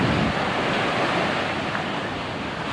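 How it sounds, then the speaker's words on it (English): Waves and water crash steadily onto a beach at Grande Riviere, Trinidad and Tobago, a continuous broadband wash of surf with some wind noise on the microphone, close and fairly loud, with no talking. "waves and water crashing into it."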